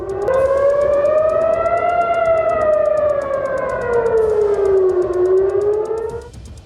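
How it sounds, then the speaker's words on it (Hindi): An air raid siren in Israel, sounding during Houthi attacks, wails loud and continuous, its pitch slowly rising then falling in a long sweeping cycle. "इजराइल को कई बार एयर सायरन तक बजाना पड़ा है।"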